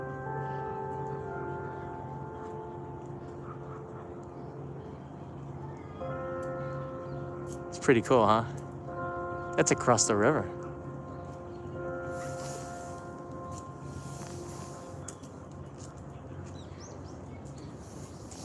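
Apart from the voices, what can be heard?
city bell ringing to mark 5 o'clock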